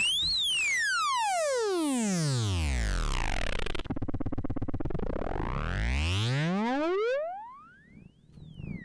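Synthesized tones from a Bastl Godspeed oscillator through an Icarie filter sweep sharply down and back up in pitch with bright, layered harmonics and a resonant, buzzy filtered edge, then fade and rise again.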